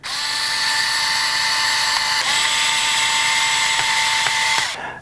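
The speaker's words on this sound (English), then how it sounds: "I'm going to tighten down with this so I don't strip it out using the power tool" A power drill tightening screws on a metal gear transmission whirs steadily at close range, its high motor whine holding for several seconds with brief pauses and speed changes before stopping.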